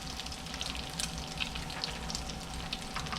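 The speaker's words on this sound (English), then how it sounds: "salmon patties are cooking up really delicious" Salmon patties fry in a pan with a steady, soft sizzle and faint crackling pops, close but quiet, no voices.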